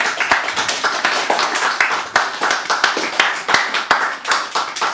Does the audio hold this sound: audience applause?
yes